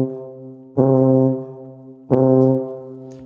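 A tuba plays two sustained low notes, each starting with a crisp tongue-released attack and then holding steady before fading, separated by a short gap with no talking.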